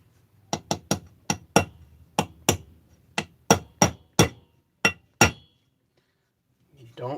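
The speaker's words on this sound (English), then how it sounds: "You gotta line it up with a hammer." A hammer taps a bearing into a chainsaw crankcase with about a dozen sharp, ringing metallic strikes in an uneven rhythm, close and clear, followed by a pause and a brief spoken word at the end.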